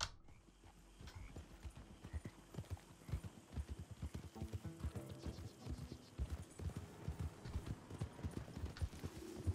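Horse hooves clip-clop steadily in Red Dead Redemption 2, a rhythmic run of close, distinct hoofbeats on the ground with an occasional neigh, no talking over them.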